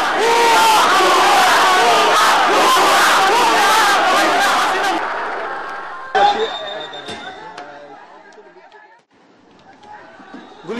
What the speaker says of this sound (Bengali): সবার মুখে বিজয়ের স্লোগান আর আনন্দ উল্লাস।